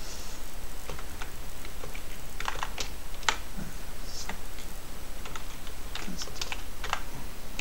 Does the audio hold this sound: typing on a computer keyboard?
yes